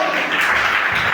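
A church congregation applauding and acclaiming the Lord, a burst of loud, dense clapping filling the whole short moment.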